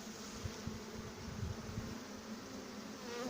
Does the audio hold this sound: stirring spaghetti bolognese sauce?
no